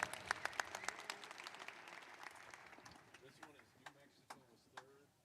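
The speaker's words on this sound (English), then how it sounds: "a nice round of applause for all of our girls 10-11 participants" An arena audience at a youth basketball free-throw competition gives a round of applause for the girls' participants, with dense clapping at first that thins into scattered individual claps, and a voice speaking over it.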